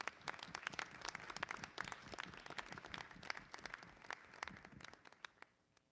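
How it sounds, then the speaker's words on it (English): An audience at a school district legislative meeting claps for a recognized student team, steady dense applause from many hands that fades toward the end. "If we could give them a round of applause."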